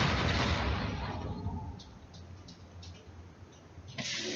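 Explosions and gunfire sound in Eve Gunjack, a VR space shooter game: a loud burst of blasts at the start that fades into rumbling, with scattered sharp shots and another surge at the end.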